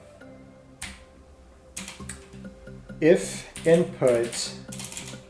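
Keystrokes on a computer keyboard during a Kotlin programming session, a few scattered clicks followed by faster bursts of typing as someone talks over them at close range.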